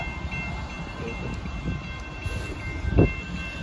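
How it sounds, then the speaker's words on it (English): A northbound Union Pacific mixed freight train rolls past at Stassney Lane in Austin, Texas, making a steady, close rumble of heavy cars with faint rail clatter and a brief louder thump near the end, with no talking. "Here comes the northbound train."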